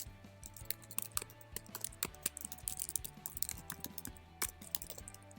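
A URL typed on a computer keyboard into a spreadsheet link box, with scattered close key clicks at an uneven pace over quiet background hum and no talking.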